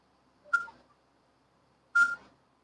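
A phone number is dialed on a telephone keypad: two short, bright tones about a second and a half apart, fairly close and alone in an otherwise quiet room.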